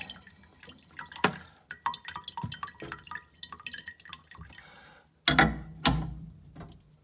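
Water drips from a disconnected 15mm pipe into a pan below during an outdoor tap replacement, falling as a run of close, irregular drips and small splashes, with a brief pause before a few louder drips.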